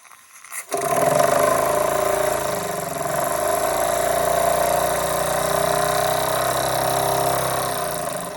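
A Jensen Model 75 engine starts with a short rising burst, then settles into a steady, even mechanical hum with a faint whirring vibration that carries on without talk.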